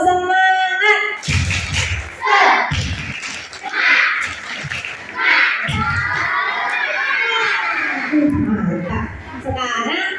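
Children at a Quran school iftar gathering perform a rhythmic clapping chant, their shouted voices rising together between sharp bursts of group claps, with an adult voice leading at the start.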